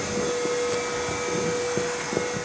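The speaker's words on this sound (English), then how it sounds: "Time to get out the vacuum" A vacuum cleaner runs steadily and loudly during cleanup after building a walk-in closet, a constant motor whine with faint knocks of the nozzle against wood.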